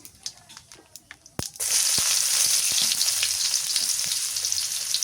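Chopped onion drops into hot oil with whole cumin seeds, a sharp clatter followed by a loud, steady frying sizzle with crackles and spatula scrapes; a few clicks and faint voices come before it.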